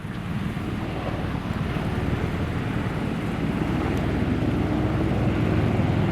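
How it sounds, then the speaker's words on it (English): Airplane engines taking off at LAX airport, a steady broad roar with wind buffeting that slowly swells in loudness, heard from a distance without talk. "I hear the engines, and they are taking off."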